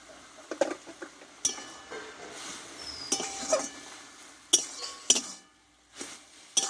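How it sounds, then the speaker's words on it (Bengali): Jute greens are stirred in a pan with a spoon or spatula, giving irregular clinks and scrapes against the metal, some sharp and close, with quiet gaps between them and no talking. "মিষ্টিটা দিয়ে এবার এইভাবে আমি শাকটা কিন্তু ভালোভাবে নাড়াচাড়া করে নেব"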